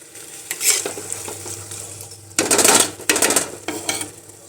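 Cooked vegetables with ghee being stirred in a clay pot, a spoon scraping and clinking in bursts over a faint sizzle, close and without talk.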